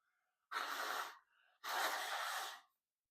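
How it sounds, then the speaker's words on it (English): Two forceful nose blows, one short and one longer, close up with a brief pause between them. "I gotta blow my nose."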